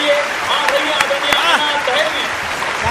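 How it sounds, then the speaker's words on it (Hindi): Audience at a kavi sammelan poetry event in Nimbahera claps steadily and loudly throughout, a dense continuous applause with a few sharper individual claps standing out. "तो जोरदार ताली से बुलाइए"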